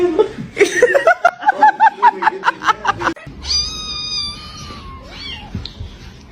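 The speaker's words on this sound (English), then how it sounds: "Get the cat." Cat yowling and meowing up close in a rapid run of short, pulsing cries that blur with laughter, followed by a sustained, high caterwaul.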